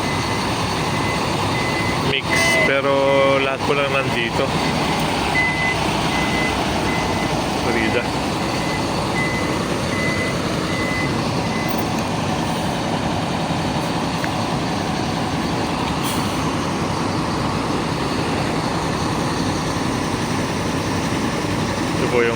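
A double-decker sleeper bus maneuvers at the Florida bus station in Pura, Tarlac, its engine idling in a steady rumble while repeated reversing beeps sound. People talk nearby.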